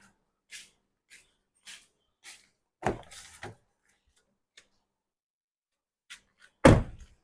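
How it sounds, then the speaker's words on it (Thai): A car door is opened on a vehicle being tested with a modified CDU, giving a loud mechanical thunk and clatter near the end. Earlier come several soft, evenly spaced clicks and a brief rattle, with no talking. "เปิดประตูแล้วนะครับ"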